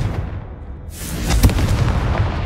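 The Confringo spell in Hogwarts Legacy bursts as a sudden fiery blast about a second in, followed by a rumbling, crackling tail.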